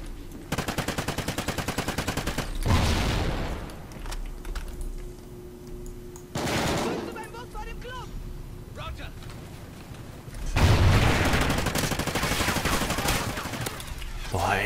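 Rapid bursts of automatic gunfire in Call of Duty Ghosts multiplayer, loud and close, crackling in repeated volleys over a dense bed of game noise.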